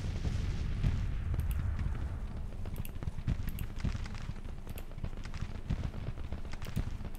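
Artillery fire in Grand Tactician: The Civil War, a dense continuous rumble of distant booms and cracks rolling over one another without pause, with no talk.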